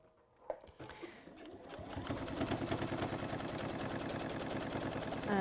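A sewing machine stitches through several layers of fabric, starting with a few clicks and then running into a fast, steady mechanical chatter, close up.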